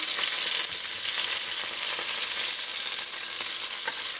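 Chicken pieces sear and fry in a pot, a dense, steady sizzle of hot oil crackling throughout with no pauses.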